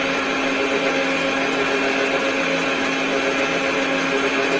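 An electric mixer whirs continuously at a steady pitch while beating egg and sugar together, a loud, unbroken motor drone with no pauses.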